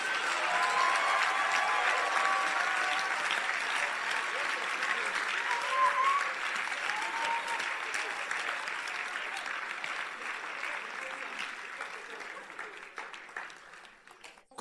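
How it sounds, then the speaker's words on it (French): Church audience at a gathering in Orlando clapping loudly and steadily, a thick sustained wash of applause that slowly thins toward the end, with a voice speaking over it. "vous n'applaudissez pas comme il faut"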